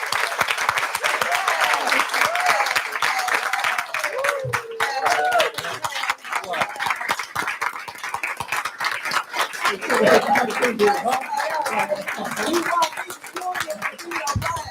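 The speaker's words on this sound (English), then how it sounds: "who are we clapping to?" An audience at a school board meeting breaks into sustained, dense applause that stays loud and steady for the whole stretch, with crowd murmur and voices mixed in.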